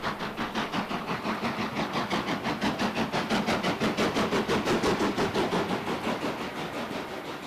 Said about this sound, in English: we see the beautiful train running in open countryside